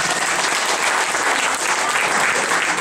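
Audience applauding at a French theatre company's stage performance, a dense, steady wash of clapping throughout, loud and close with no pauses.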